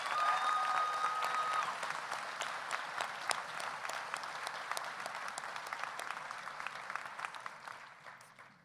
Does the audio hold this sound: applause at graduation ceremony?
yes